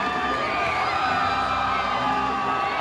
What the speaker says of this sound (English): There you see the Brandon Valley student section cheering them on.